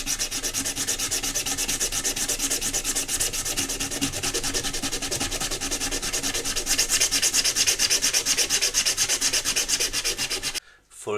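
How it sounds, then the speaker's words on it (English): Sandpaper rubs rapidly back and forth across a surface in a steady, close, rhythmic scratching that continues for about ten seconds before stopping abruptly. "easily you can use sandpaper"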